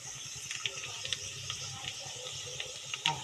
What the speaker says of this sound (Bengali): চলো এরকম করে সব ফুচকাগুলো ভেজে নেব।